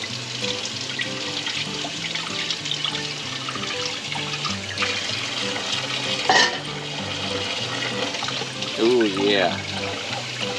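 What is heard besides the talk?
rinsing menudo ingredients under running tap water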